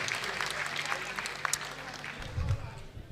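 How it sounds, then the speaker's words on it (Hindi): Audience at a poetry event in Aiwan-e-Ghalib applauding, steady crowd clapping with some voices and murmur beneath, moderately loud throughout. "जरा सा आप तालियां वालियां भी बजा दीजिए"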